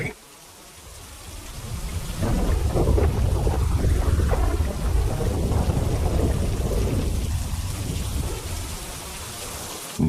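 A steady thunderstorm with heavy rain on surfaces and deep rolling thunder that swells after a quieter start and holds loud, dense and close throughout.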